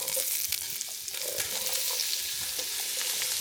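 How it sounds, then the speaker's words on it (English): Onions and celery sauté in a pan, a soft continuous sizzle with faint stirring scrapes, quiet and steady with no voices. "we're going to add those onions. Saute those onions"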